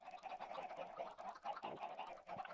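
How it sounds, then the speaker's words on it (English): Chickens cluck in the video game Minecraft, faint repeated short squawky calls in a quiet stretch of hardcore survival play, with no talk. "There's some wild chickens, so I'm just murdering them."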